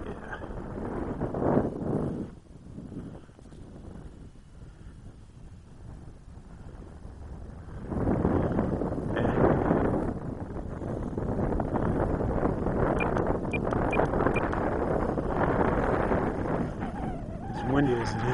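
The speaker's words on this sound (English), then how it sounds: "As windy as it is, I don't think I'm ever going to get anything done." Wind buffets the microphone in rough, rumbling gusts that swell and fade outdoors where a radio-controlled model plane is flown, with a voice talking underneath at times.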